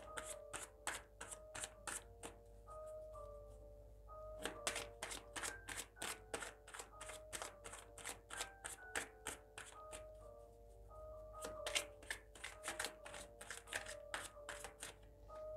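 Tarot cards being shuffled by hand in a quiet room, a steady run of quick papery riffles and taps with brief pauses, close and fairly soft, with no one speaking.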